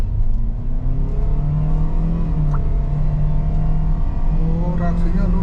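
A 2022 Toyota Veloz engine hums steadily and builds as it accelerates, a low droning rev running the whole time with faint voices underneath.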